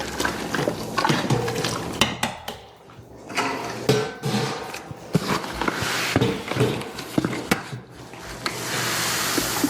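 Grain mash being stirred in a brewing kettle, with scraping and knocking of a paddle against metal, sloshing thick liquid and irregular clanks, loud and close.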